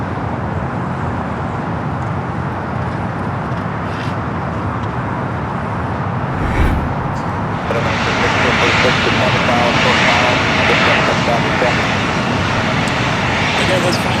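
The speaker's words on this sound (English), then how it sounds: "this flight coming in from Denver, flight 9761. Why it's a little loud over there" A jet airliner arriving at LAX from Denver roars steadily, growing louder and brighter about halfway through as it passes closer, with a voice talking over the engine noise.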